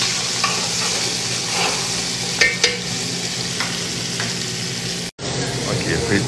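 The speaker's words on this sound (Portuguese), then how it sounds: "Fritar aqui." Bell pepper fries in a hot restaurant pan for a Brazilian moqueca, a continuous close sizzle broken by a few utensil clicks and scrapes, with one brief dropout near the end.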